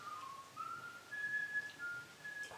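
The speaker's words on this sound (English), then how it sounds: "If you can hear whistling, that's my father coming up the hall." A man whistles a wandering tune as he walks along a hallway. It is faint and somewhat distant, the melodic notes rising and falling over a quiet room for a couple of seconds.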